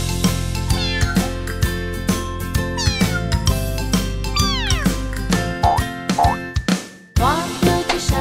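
Kittens meowing in a French children's song about three little kittens who lost their gloves, cartoonish mews repeating over a steady musical backing with a bouncy rhythm, bright and up close throughout.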